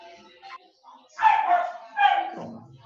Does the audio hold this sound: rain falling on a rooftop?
no